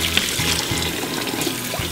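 Cold tap water running and splashing while rice vermicelli is rinsed for bun bo hue, a steady close wash of flowing water with small splashes, no talking.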